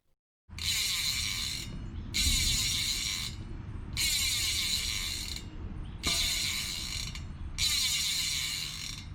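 Rapid, continuous freewheel clicking from a DT Swiss E1900 bicycle hub converted to a 54-tooth star ratchet, in several bursts separated by short pauses, close and fairly loud.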